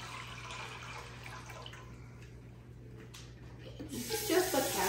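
Water runs steadily from a tap into a large cooking pot being filled for a garlic-scented boil, a continuous close splashing rush over a low electrical hum, growing louder and brighter near the end.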